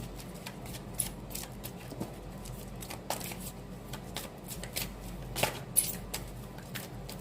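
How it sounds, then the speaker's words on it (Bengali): Tarot cards shuffled by hand in a quiet room, a steady series of soft, rapid flicks and taps spread across several seconds, with no talking. "যতক্ষণ না কার্ড আসবে ভাববে আমাকে একটু সাফল করতেই হবে"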